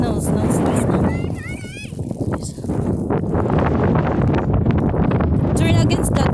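Strong wind roars steadily against the microphone during a walk through falling snow, with voices talking over the constant gusty rush.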